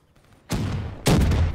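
Gunfire in Call of Duty Black Ops 3 on PC: two loud, sharp bursts of shots, the second slightly heavier, each ringing out briefly after a near-silent start.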